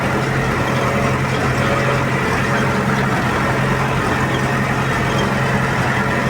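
A YuMZ-8073 tractor engine idles close by during hay baling with a steady, loud, unchanging rumble throughout and no voices.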